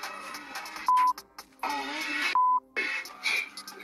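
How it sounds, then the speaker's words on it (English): A phone rings during a tense interview, two short electronic ring bursts cutting through busy room noise and overlapping voices, which talk throughout. "Seconds later, the interviewer's phone starts ringing."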